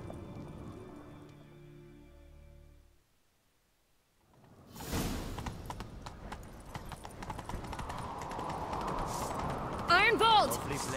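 Horses gallop in The Witcher 3 video game: a steady rapid clip-clop of hooves rises after a short quiet gap and carries on close and loud, with a brief whoosh near the end.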